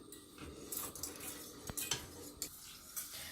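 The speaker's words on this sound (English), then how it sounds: "we're going to use a whisk to stir it all around." A whisk scrapes and clinks around inside a pan of water and butter in quick, uneven strokes, close and fairly quiet, with no one talking.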